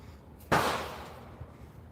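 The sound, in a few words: gunshot outside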